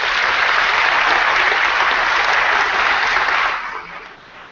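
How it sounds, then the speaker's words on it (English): Sustained applause from a large assembly audience at a church synod plenary session, loud and steady before tapering off near the end, with a faint voice underneath. "Let's give them a round of applause."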